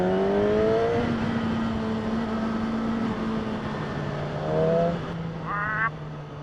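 A 2016 Yamaha R6 motorcycle engine and intake drone steadily at close range, holding a fairly even pitch with short rising rev swells near the end.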